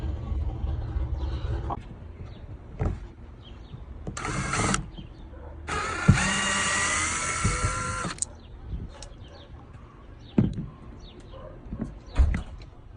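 A power drill backs screws out of a 2020 Kia Telluride reverse light housing: a short whirring burst, then a longer, louder run that shifts in pitch, with scattered clicks and handling noise around it.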